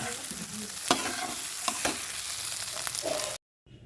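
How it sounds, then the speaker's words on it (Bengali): Egg and potato bhujia sizzling in a pan on a gas stove, with a spatula scraping and stirring in several distinct strokes, close and clear, ending abruptly in silence. "ডিমটা দিয়ে দিয়েছি, দেখো ফাটিয়ে দিয়েছি।"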